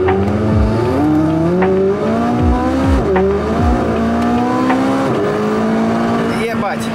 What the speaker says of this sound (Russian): Хочу сделать замер от 0 до 100